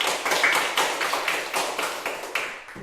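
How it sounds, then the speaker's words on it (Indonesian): Classroom applause in an Indonesian school lesson, a small group clapping together in a clear, steady rhythm of distinct synchronized claps, close and fairly loud. "Tepuk tangan."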